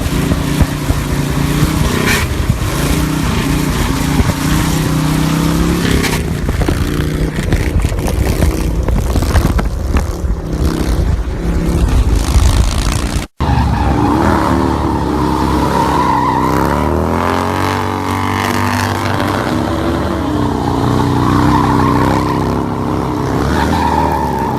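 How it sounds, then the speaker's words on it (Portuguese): A Harley-Davidson Dyna motorcycle drifts with a loud, continuous engine roar and squealing, skidding tires, close and sustained without pause. "ela é uma moto que ela tem muito torque, anda muito, a galera usa para fazer drift, truques, dar um grauzinho"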